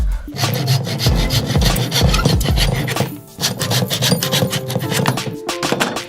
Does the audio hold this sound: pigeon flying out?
no